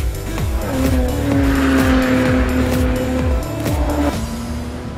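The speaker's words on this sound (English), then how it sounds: "the crackle of the engine as a musical accompaniment from the tuned exhaust" A Jaguar F-Type with a tuned exhaust is driven hard on a track, its engine note rising and falling loudly and close with gear changes, tyre squeal and crackles from the exhaust.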